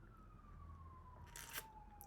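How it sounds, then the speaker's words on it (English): Ambulance siren far off in the background, a faint single wailing tone sliding slowly downward as it passes, with a brief rustling burst near the end over low room hum. "Excuse the fucking sirens in the background."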